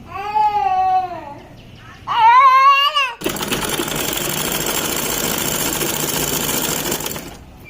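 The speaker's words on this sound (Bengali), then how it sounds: "এইভাবে পুরো রাউন্ড করে আমাকে সেলাই করে নিতে হবে" A plain domestic sewing machine stitches around a half-pant waistband, running in one steady, loud, whirring burst of about four seconds. Before it starts, a high wailing cry like a child's is heard.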